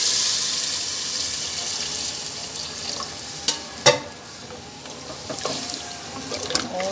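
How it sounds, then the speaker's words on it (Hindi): Lentils and other ingredients fry in a pan in a home kitchen, a steady hiss and sizzle with a few sharper clinks and scrapes of stirring partway through. "ये देखें फ्राई कर लिया इसको"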